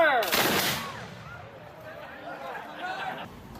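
Flintlock musket volley fired by reenactors at a Douglass-Clark House dedication, one loud, sharp, crackling blast near the start, then trailing echoes and faint crowd murmur.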